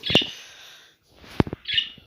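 A pet parrot gives a couple of short raspy chirps close by, separated by a pause, with a few soft clicks in between.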